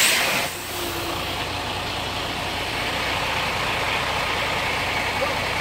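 A heavy semi truck engine idles with a steady low rumble, constant and fairly close, with no other distinct sounds.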